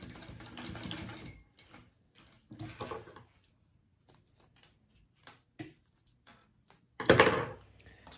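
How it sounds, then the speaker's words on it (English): Lux nylon being top stitched on a sewing machine, with short bursts of mechanical stitching separated by pauses and light handling noise, followed by a louder closing burst. "I'm just going to flip that over and top stitch"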